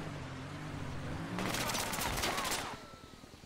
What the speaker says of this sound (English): I got gunned down by a guy with a machine gun in the middle of nowhere up there.